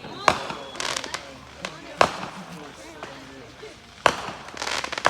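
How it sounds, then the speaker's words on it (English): A 300-shot firework missile battery fires sharp, loud bangs at intervals of about two seconds, with crackling bursts trailing between them and voices in the background. "A 300 missile battery."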